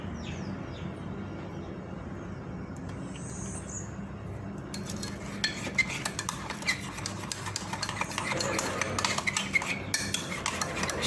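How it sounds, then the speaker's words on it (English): A spoon stirs an almond milk mixture in a bowl, scraping and clinking rapidly and continuously close by, beginning after a few seconds of quiet background with faint bird chirps. "Now I'll just stir, give this a quick stir."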